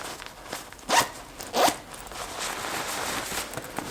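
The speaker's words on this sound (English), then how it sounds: "and then you zip this open." A compressible dirty laundry bag being unzipped: two quick, close rasping zipper pulls, followed by a faint steady rustle with no voices.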